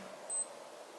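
A NAVIFORCE NF9133 wristwatch gives a single short, high electronic beep as button D is pressed, faint and brief over a quiet room hiss.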